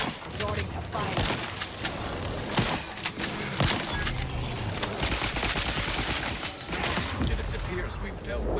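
Rapid bursts of gunfire from the video game The Outer Worlds 2 crackle densely throughout, with sharp repeated shots and clanking mechanisms layered over a busy game soundscape.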